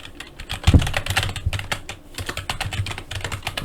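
Rapid keyboard typing, a steady run of light clicks and taps close by, with one heavier thump near the start.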